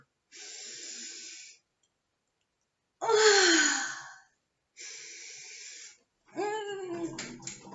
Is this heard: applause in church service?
no